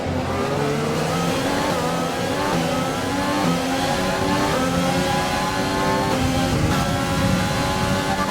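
Formula 1 car engine in the racing video game F1 2020 at Melbourne, Australia, screaming at high revs under acceleration during an overtake, a loud, continuous whine with rising pitch sweeps as gears change, without speech.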